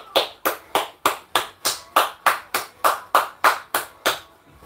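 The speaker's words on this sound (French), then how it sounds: "Allez, applaudissez-vous, bon sang." Workout participants in a live circuit-training session clap their hands in a steady rhythm, about fourteen crisp, close claps at an even pace with no talking.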